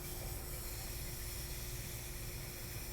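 A hot soldering iron steaming a small divot in a guitar fingerboard gives a steady, close hiss that runs unbroken and even in level throughout, with no talking.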